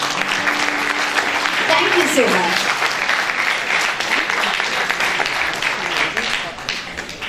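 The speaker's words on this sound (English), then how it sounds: "A huge round of applause for our young authors." Steady, loud audience applause for young authors at a literary festival session, a voice speaking briefly over the clapping before it tapers slightly near the end.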